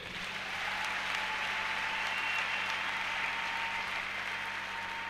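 Church congregation applauding in praise of the Lord, a steady, dense wash of clapping that fills the room and holds at an even level throughout, with no pauses or voices standing out.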